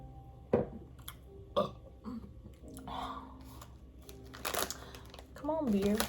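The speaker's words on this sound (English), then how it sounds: "I'm gonna need you to come through with the burp." Someone lets out a burp after drinking Bud Light beer, with a couple of short gulping, crinkling sounds beforehand and a throaty belch near the end, heard up close with some talking mixed in.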